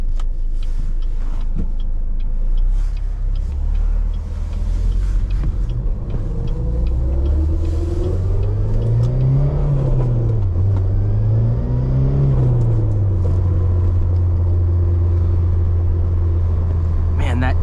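Turbocharged Ecotec four-cylinder engine in a 2007 Pontiac Solstice GXP with the Performance Plus package, heard from inside while driving: a loud steady rumble that rises and falls through revs, with someone talking over it.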